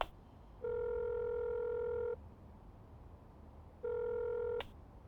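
A phone call is placed and rings out, with two long steady tone bursts separated by a gap of quiet line hiss, clear and close.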